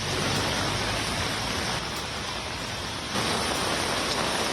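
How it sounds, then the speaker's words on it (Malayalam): Dense, steady heavy rain pours down on Mumbai, a constant loud wash of sound with no talking. "തുടർച്ചയായി പെയ്യുന്ന മഴയെ തുടർന്ന് വിവിധ സ്ഥലങ്ങളിൽ വെള്ളം കെട്ടിനിൽക്കുന്നതിനാൽ"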